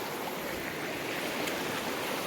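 A river stream flows nearby, a soft continuous rushing wash of water, fairly faint and even throughout with no voices.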